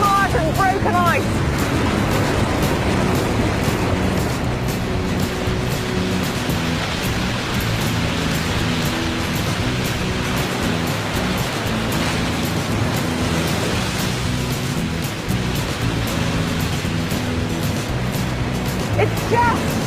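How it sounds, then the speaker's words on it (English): Meltwater pours over the thawing Alexandra waterfall, a churning jumble of mud and broken ice after six months frozen, producing a dense, unbroken roar of rushing water that stays loud and steady the whole time. "it is pouring and pouring over the waterfall in this great dramatic jumble of mud and broken ice"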